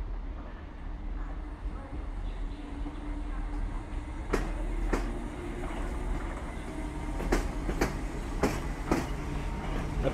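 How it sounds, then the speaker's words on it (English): A South West Trains train departs Guildford station for London Waterloo with a steady low rumble, faint tonal hum and a handful of sharp rail clicks in the second half. "now is South West Trains departing Guildford for London Waterloo"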